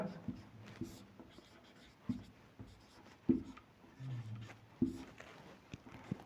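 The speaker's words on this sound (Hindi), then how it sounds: "तो सबसे पहले लिखेंगे रचना के चरण।" A pen writes out triangle construction steps in a Class 7 geometry lesson, with faint, close scratching and occasional tapping strokes, interrupted by soft sounds from the speaker between strokes.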